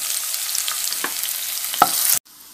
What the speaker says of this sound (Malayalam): ഇഞ്ചിയും ഉള്ളിയും പച്ചമുളകും ഇട്ടൊന്ന് ഇളക്കാം